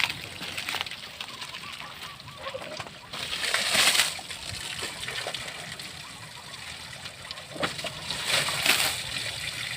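Water splashes and sloshes against an elephant during its bath, arriving in uneven bursts that are loud and close, while someone speaks at times over the splashing.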